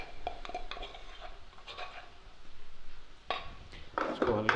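A spoon scrapes and clinks in a pan as onion, garlic and ginger paste are stirred and fried, with irregular knocks, soft sizzling, and a louder burst of scraping and frying at the end.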